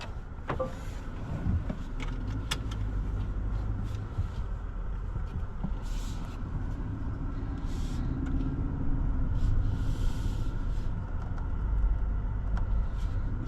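A 2027 Kia Telluride X-Line EX cruising on the road, its cabin filled with a steady low rumble of engine and road noise, with a few faint clicks and no talking.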